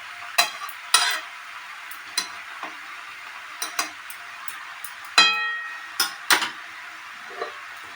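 Thankuni greens and eggplant being stirred in a pan, with a soft sizzle of frying underneath and a scattering of sharp spatula scrapes and clinks against the pan at irregular intervals.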